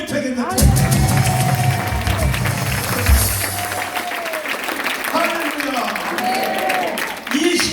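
A large crowd at an outdoor Christian pastors' rally in Busan breaks into sustained applause and cheering, loud and steady throughout, with scattered whoops and voices mixed into the noise.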